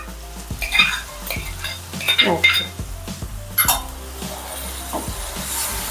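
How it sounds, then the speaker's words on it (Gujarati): Chopped onions go into a hot pan for a Gujarati cauliflower curry, with a steady sizzle and frying hiss under repeated scraping and clinking of a spoon stirring against the metal pan. "હવે આપણે ડુંગળી એડ કરી દેવાની"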